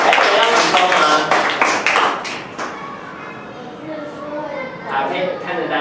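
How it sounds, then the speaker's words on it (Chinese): Elementary-school classmates clapping for a pupil in class: a burst of close, uneven claps from a group for about two seconds, fading out, then mixed with children's chatter. "请大家给陈天一掌声"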